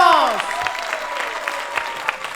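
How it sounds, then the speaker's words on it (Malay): Studio audience at a live anniversary talk show claps together on cue, a dense burst of applause that starts strong and trails off over a couple of seconds with scattered claps. "kita applause, orang-orang tepuk tangan boleh?"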